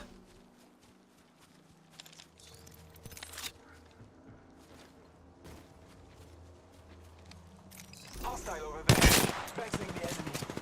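Rapid RE-45 pistol fire in the Apex Legends video game comes as quick bursts of snapping shots over busy game sounds, building to a louder, denser burst near the end.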